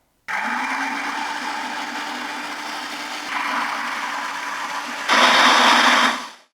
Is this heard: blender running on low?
yes